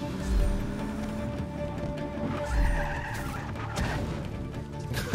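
A car drifts in Just Cause 3, with tires skidding and squealing in repeated bursts over a running engine, loud and close, with a few low thumps along the way.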